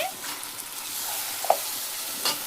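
Homemade garam masala being stirred into a sizzling chicken biryani pan with a fried leg piece, steady frying hiss under the stirring and a couple of sharp scraping clicks of the spoon against the pan, no talking.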